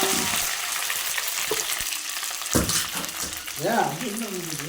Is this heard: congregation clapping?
no